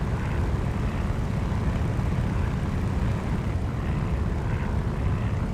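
Steady, loud propeller aircraft engine drone from a World War II desert flight video game, a continuous broadband roar with no pauses and no voices.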